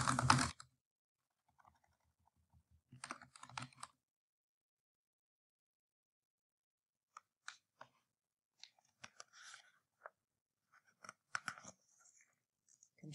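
Keys clack on a computer keyboard as a name is typed, a few faint scattered clusters of taps with long silent gaps between them.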